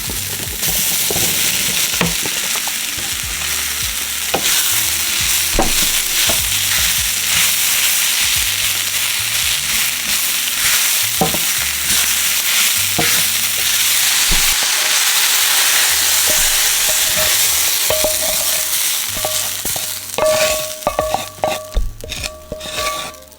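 Mushrooms sizzle loudly in a hot pan during beef and noodles preparation, with steady frying hiss broken by repeated spoon scrapes and clinks as they are stirred, close and continuous without talk.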